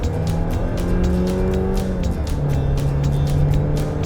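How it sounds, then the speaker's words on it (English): A Jeep Compass on a test drive on Hawaii's Big Island accelerates at full throttle, its engine droning loudly and rising in pitch, with an apparent gear shift midway before it climbs again. "Yeah, that's it floored."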